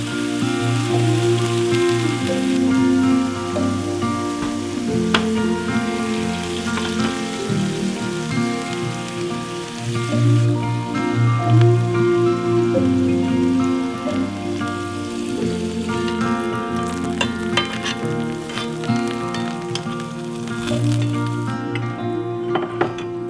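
Morel mushrooms fry in butter and olive oil in pans, giving a continuous crackling sizzle with occasional light clinks of utensils against the cookware.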